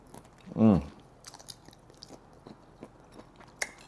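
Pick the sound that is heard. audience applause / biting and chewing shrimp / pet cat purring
biting and chewing shrimp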